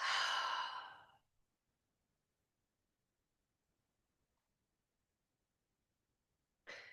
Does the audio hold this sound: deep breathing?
yes